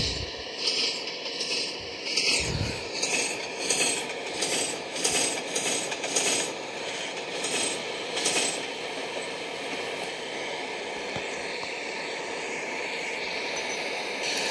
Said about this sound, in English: Now we're gonna wait for the diesel to arrive.